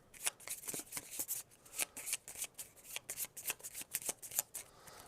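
Playing cards for the Seas of Havoc board game being shuffled close up, quiet repeated riffling bursts in an uneven rhythm, with no talk.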